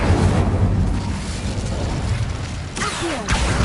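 An Incendio fire spell cast in Hogwarts Legacy, heard as a dense, sustained roaring whoosh of flame with deep rumble and a swelling burst near the end.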